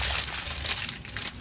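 Steady crinkling and rustling of aluminum foil covering a pan of leche flan, continuous and close, with a low background hum underneath.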